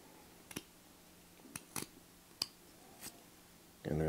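A carving knife makes a stop cut in wood while shaping the eye of a simple beginner Santa figure. A few quiet, crisp cutting clicks are spaced apart, and a voice begins right at the end.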